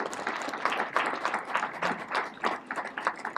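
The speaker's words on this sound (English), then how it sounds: "Let's give him a round of applause." Round of applause from a seated audience at an event, light and fairly distant clapping from a modest crowd, uneven in texture and continuing steadily for a few seconds.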